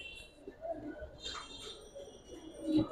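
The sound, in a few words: pigeons cooing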